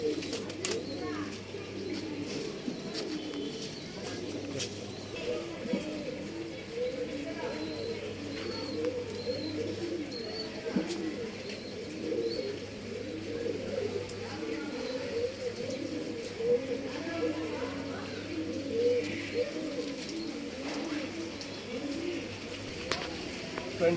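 Regdar pigeons coo in soft, repeated low calls close by, a continuous murmur from several birds with occasional chirps over it.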